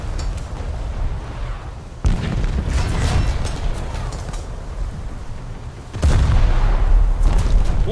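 Heavy naval gun salvos and shell explosions from War Thunder naval realistic battles boom out in loud, dense bursts, with fresh blasts striking at about two and six seconds over a continuous rumbling roar.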